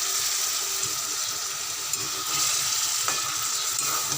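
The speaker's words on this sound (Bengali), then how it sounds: "আর লঙ্কা গুঁড়ো সামান্য, ঝাল আমি বেশি দেবো না, দিয়ে এটা কষিয়ে নেব।" A spice paste of turmeric and a little chili powder fries steadily in a pan, giving a constant close sizzle with occasional scraping stirs and no talk.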